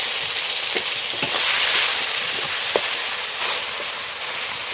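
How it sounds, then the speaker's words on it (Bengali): Vegetables sauté in a pan with tomato and chili powder, a steady loud sizzle running throughout, broken by a few soft scrapes and clinks of a spatula stirring. "এবারে একটু কষা দেখো সবজিটা এখানে কষা কষা হয়ে গেছে"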